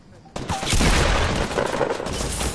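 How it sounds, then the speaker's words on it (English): Gunfire in Fortnite Battle Royale erupts suddenly as a loud, rapid burst of shots with heavy low-end booms, continuing in a dense volley for a couple of seconds. "He started shooting first."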